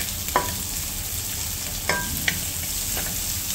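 Garlic and onion sauté in a hot home-cooking pan, a steady close sizzle broken by a few sharp clinks of a utensil stirring, with no voices.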